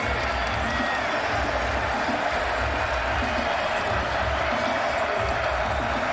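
A large stadium crowd at a TCU vs Kansas college football game in Arrowhead Stadium roars with steady, dense noise, a broad wash of cheering and chatter that holds at full volume throughout.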